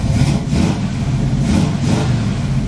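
A 1972 Pontiac Firebird Formula engine warming up toward idle, a steady low rumble with slight rhythmic surges, close and fairly loud, no talking.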